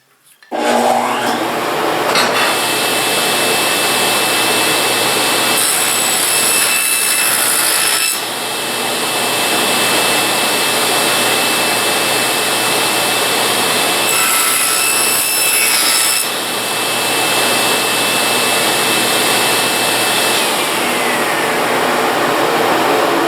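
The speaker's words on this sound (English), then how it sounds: "What I think I might do here is just make one more skim cut," A power saw makes a skim cut on a miter gauge in a woodworking shop, a loud continuous whirring roar that runs the whole time with slight dips in load, close by and with no talking.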